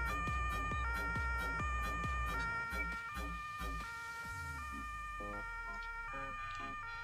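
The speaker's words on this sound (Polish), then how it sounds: "Syrenę włączamy." Electronic emergency siren of a volunteer fire brigade vehicle in Farming Simulator 22, wailing in a repeating two-tone pattern, loud and continuous, over a low engine rumble.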